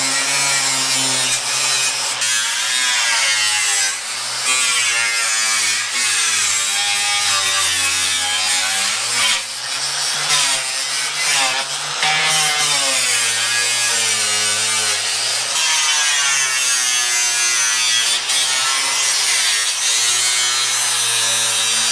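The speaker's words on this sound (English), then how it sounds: "Here I'm using my DeWalt angle grinder with a cutting wheel on it. It cut like butter through 2 layers of this corrugated metal." A DeWalt angle grinder fitted with a cutting wheel slices through two layers of corrugated metal, making a loud, continuous high whine whose pitch dips and rises as the wheel bites under load.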